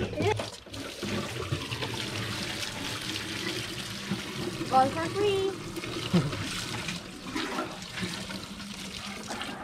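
Running water pours steadily at an outdoor bathing and washing spot near a river, a continuous close splash beneath people talking.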